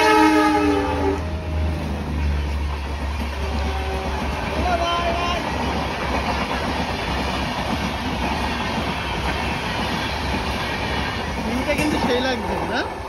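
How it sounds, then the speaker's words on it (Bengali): A train on a railway line in Bangladesh sounds its horn, then rolls past with a steady loud rumble and clatter of wagons, while people talk nearby. "ওই দেখো ট্রেন আসছে, দেখো পেছনে একটু তাকাও।"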